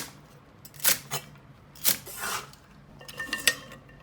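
A kitchen knife chops celery into sections on a cutting board as part of a spicy shrimp dish, giving a few scattered, crisp close-up cuts and scrapes spaced unevenly with pauses between them.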